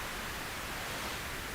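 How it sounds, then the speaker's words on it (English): Steady pink noise played through a loudspeaker, a broad, even hiss spread across the whole range with no gaps, fairly quiet and continuous throughout. "if you move around with a pink noise and you hear that it sounds like this"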